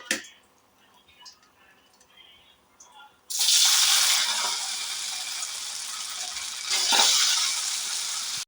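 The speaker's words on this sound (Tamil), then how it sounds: "ஒரு கடாயில் ஆயில் ஹீட் பண்ணிவிட்டு இட்லி கட் பண்ணி வச்சுருக்க இட்லியை ஆட் பண்ணிக்கலாம்." Cut idli pieces drop into hot oil in a kadai, setting off a sudden loud, steady sizzle and crackle close by that swells again a few seconds later, after a quiet start with faint clinks.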